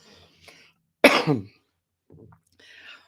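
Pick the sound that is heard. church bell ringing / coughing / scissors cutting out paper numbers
coughing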